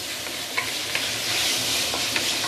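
Salt-marinated chicken pieces sizzle in a hot pan with sesame oil and ginger, a steady frying hiss broken by a few sharp scraping clicks as the meat is stirred.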